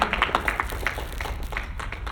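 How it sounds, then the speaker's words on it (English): An indoor audience at a Miami small business workshop applauds, a dense wash of many hands clapping that is loud at first and then settles into a steady, slightly thinner round of applause. "Nice round of applause."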